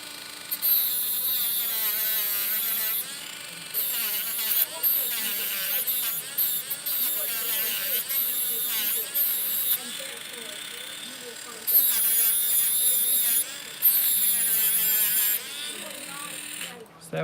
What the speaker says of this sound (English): I'm gonna take my discs, my disc sanders,